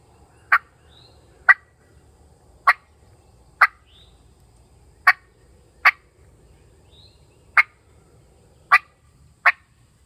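A hand-worked turkey call gives a series of short, sharp clucks, about nine single notes spaced roughly a second apart, clear and close against a quiet background.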